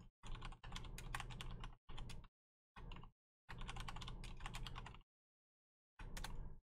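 Rapid bursts of keystrokes on a computer keyboard as a new password is entered, close and clear, separated by short silent pauses.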